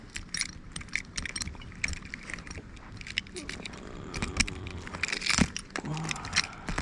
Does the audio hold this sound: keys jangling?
yes